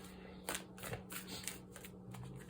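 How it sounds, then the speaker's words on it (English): Tarot cards being shuffled by hand for a live pick-a-card reading, giving a steady run of soft papery riffles and flicks over a low background hum, with no talking. "because I'm shuffling live for you guys, I'm going to just take what comes out here"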